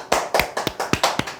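A short burst of clapping from a small audience, about seven crisp, evenly spaced claps, close and clear, with no talk over it.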